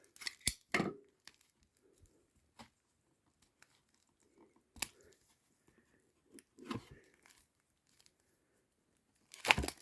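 Plastic wrapping on a 1993 Fleer Flair Premiere Edition trading card pack being torn open in short, sharp crinkling bursts separated by quiet pauses, close and fairly faint.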